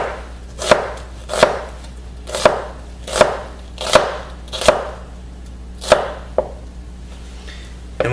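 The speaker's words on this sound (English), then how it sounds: "what we have here is a julienne onion" Knife julienning an onion on a cutting board, seven crisp chops spaced roughly evenly about every 0.7 seconds, close and loud with quiet pauses between strokes.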